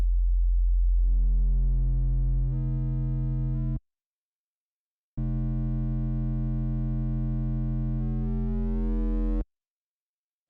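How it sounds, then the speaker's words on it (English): A low F sine wave in Ableton, reshaped by the free Max for Live device WAVEFuze, plays as a steady deep tone that grows brighter and richer in harmonics. It cuts out briefly, then returns in two sustained, loud passages with no voices. "Alright, I'll give it a test on a sine wave. This is a low F."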